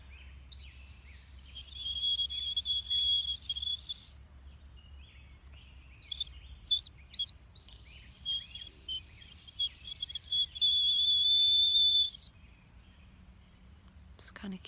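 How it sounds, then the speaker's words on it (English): A small bird-call whistle chirps in quick warbling bursts, trilling on and off and ending in a longer sustained trill, fairly close. "Can you hear the birds? I got this little whistle"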